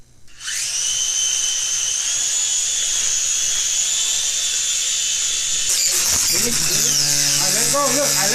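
Small H11D quadcopter drone with its motors spinning the propellers up to lift off, a loud steady high-pitched whine holding throughout, with clattering, rattling noises and a shifting tone breaking in near the end.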